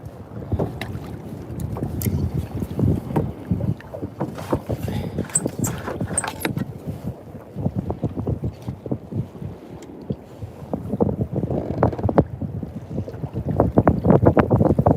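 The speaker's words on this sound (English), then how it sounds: "It's a bit windier than I thought it would be." Wind buffeting a fishing boat out on the water, a continuous rough rumble with gusty bursts and knocks throughout, and no one talking over it.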